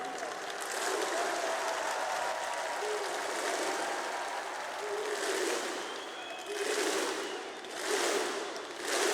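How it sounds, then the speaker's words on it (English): Broad crowd applause at a Counter-Strike esports major match fills the scene, swelling and fading in waves, with a couple of louder bursts near the end and murmuring voices mixed in. "they deserve an applause for it"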